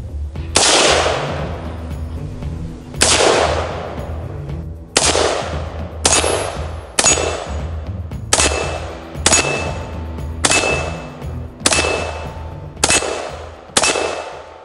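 An AR-15 rifle fires in rapid bursts, about a dozen loud, sharp cracks and strings of shots spaced a second or two apart, each ringing out with a long decaying echo outdoors.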